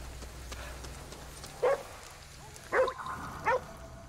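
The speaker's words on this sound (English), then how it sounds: "And the dog in question was back here." In the video game Ghostwire Tokyo, a dog barks three times at a moderate distance, short separate barks over a soft steady rain-like background hiss.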